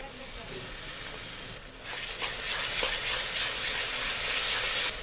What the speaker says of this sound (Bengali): এবার পেঁয়াজটাকে লাল করে ভেজে নেব।